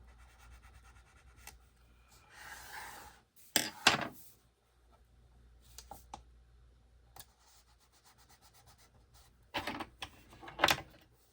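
Book spine repair material rubbed down by hand gives faint, sparse rubbing and scraping strokes, with a few brief louder scuffs and handling knocks in a quiet room.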